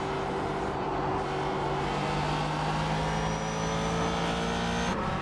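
Race car engine in the iRacing sim, running steadily at high pitch with rev blips on downshifts as the gears drop, loud and close with no talking.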